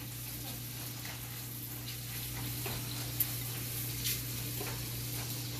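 Shrimp sizzling in a hot pan, a steady soft frying hiss with faint crackles and a couple of small pops, no talking over it.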